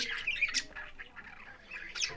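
Several sharp squawks and chirps from caged birds, close by, in short irregular bursts over a quiet background.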